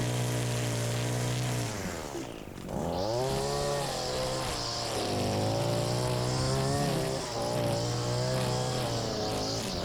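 A string trimmer cutting grass on a lawn care job, a loud, close, high-pitched engine whine that dips briefly and then climbs back, rising and falling as the throttle changes.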